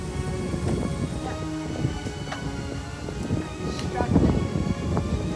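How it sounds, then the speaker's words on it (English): Strong wind roars and buffets against the microphone while cycling outdoors around Zhouzhuang water town in China, with voices talking faintly underneath. "It just got very much more windy"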